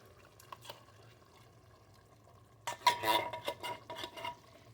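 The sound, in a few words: pinto beans with juice dumped into a pot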